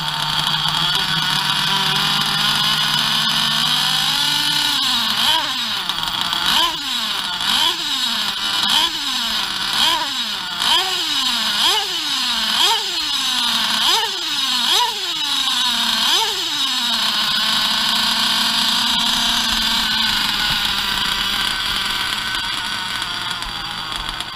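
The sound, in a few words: Novarossi RCR .25 Roma nitro RC car engine revving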